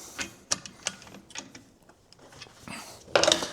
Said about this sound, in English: we can put the bolt in and torque it down